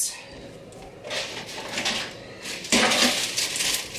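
Metal cookie sheet and thin pans handled on a kitchen countertop, giving a few scraping, clattering bursts that swell louder near the end, fairly close.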